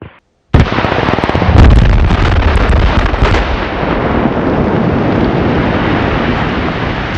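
Rock blasting explosion at a new house construction site: a sudden loud close detonation after brief silence, followed by a long rumbling wash of debris and noise that slowly settles.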